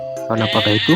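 A white, thick-fleeced sheep gives a short bleat with quavering pulses, loud and close, right after a brief spoken question.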